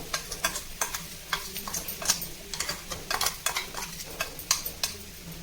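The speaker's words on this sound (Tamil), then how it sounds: "இதை ஒரு ரெண்டு மூணு நிமிஷம் நல்லா அந்த பச்சை வாசனை போகிற வரைக்கும் நம்ம வதக்கிக்கணும்" Ground paste and onion sautéing in a pan give a soft sizzle under rapid, rhythmic scraping and tapping of a spoon against the metal, close up with no talk.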